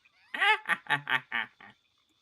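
A bird-like creature in the video game Spore gives a rapid laughing call, a rising squawk followed by four or five quick honking chirps, loud and close with no talk over it.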